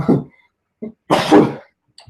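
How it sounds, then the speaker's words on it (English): A single loud, explosive sneeze, preceded by a sharp breathy intake and a short vocal burst, then quiet. "I'm about to sneeze."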